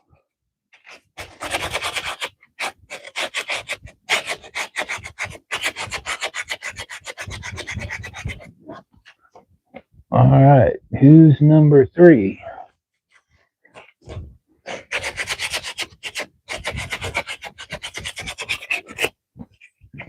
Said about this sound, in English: You're catching me on a sanding day.